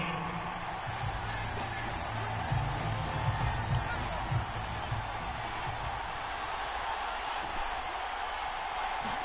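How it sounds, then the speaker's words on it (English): Crowd in Madden NFL 22 at a football stadium, a dense steady roar with swells of shouting as fans react to a replay, continuous and filling the background, with a commentator's voice over the top. "this is plenty of shouts from this crowd as they watch the replay"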